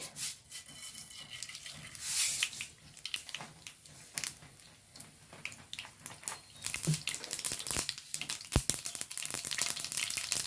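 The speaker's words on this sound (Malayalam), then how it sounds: "ഇനി സാമ്പാറിൻ്റെ ഒരു വറവ് ഇടാം കേട്ടോ. അതിലേക്ക് കുറച്ച് കടുകിടുന്നുണ്ട്." Mustard seeds pop and sizzle in hot oil while a tempering is made for sambar, a faint crackling hiss with scattered sharp pops that grow busier toward the end.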